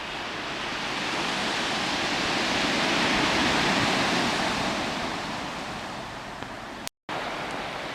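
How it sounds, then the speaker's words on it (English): Waves break on a shingle beach along the English coast path between Seaham and Sunderland, a broad steady wash of surf that swells to a peak midway and then eases off, heard alone apart from a brief dropout near the end. "Generally a very shingly beach, but it does have the advantage of the waves breaking nicely"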